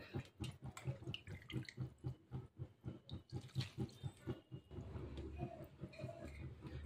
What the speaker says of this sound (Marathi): पुन्हा मी तेच नूडल्स त्या गाळणीमध्ये टाकले आहे, म्हणजे ते पाणी जे आहे थंड पाणी ते सगळं ड्रेन आउट होऊन जाईल.